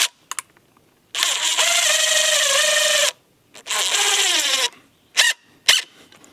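A power drill driving 2.5 inch screws into wood for a deer feeder, heard in two long whining bursts with rising and falling pitch, followed by short blips of the trigger, close and loud.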